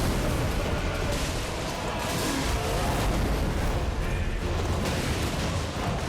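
Dense, continuous rumbling blasts and booms of holy explosions in Elden Ring Nightreign pile over one another, with no clear gaps between the explosions.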